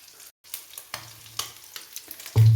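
Oil and mustard seeds sizzle and pop in a curry pot on the stove, a soft close-up frying crackle with a few sharper spits and no voices.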